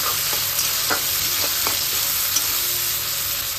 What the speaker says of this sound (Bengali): এখন পেঁয়াজটা ভাজা হচ্ছে